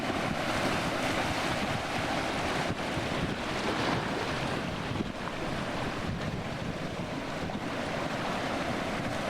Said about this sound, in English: the sound of the rock meeting the water meeting the rock, this symphony of earth and water coming together